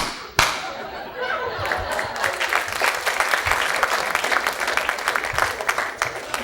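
An audience at a stand-up comedy show breaking into sustained applause after a sharp thump, dense clapping that swells and continues steadily, with scattered chuckles mixed in.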